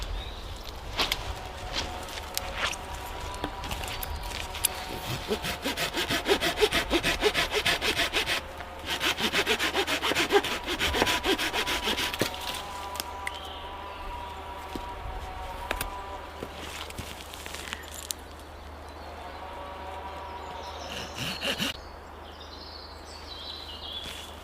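Handsaw cutting through a wooden hearth board for a bow drill kit outdoors, with repeated rhythmic rasping strokes for about twenty seconds, then slowing to a few final strokes, with faint birdsong in the background.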